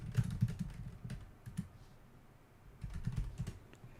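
A computer keyboard is typed on nearby in two short flurries of clicking keystrokes with a brief lull between them, quiet and without speech.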